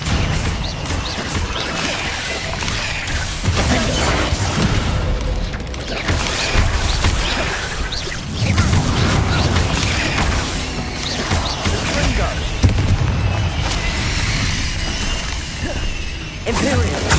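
Bombarda blast spells from the video game Hogwarts Legacy, a dense run of booming, crashing explosions and whooshes layered with game music and effects, loud and continuous throughout.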